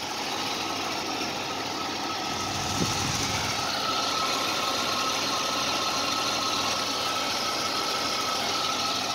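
A 1990 Oldsmobile Cutlass Supreme coupe with a 3.1 V6 multi-port fuel-injected engine idles smoothly, giving a steady, even hum and rumble at close range with no voices.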